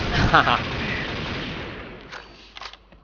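Long-range gunshots in the online shooter Xshot, fired through a zoomed scope: a loud sharp report up front with a rolling tail, then fainter distant cracks near the end.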